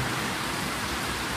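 Rain falls steadily outside, a dense, even hiss of drops that holds at a constant moderate level for the whole moment, with no voices.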